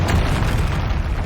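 Confringo fire spell going off in the Hogwarts Legacy video game, a short, loud, rumbling boom with a dense low blast that fills the whole moment, with no voices over it.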